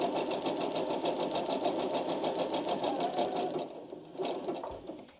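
Domestic sewing machine running a continuous stitch along a fabric edge while prepping fabric, a steady close whirring buzz that holds for about four seconds, then slows and stops with a short burst near the end.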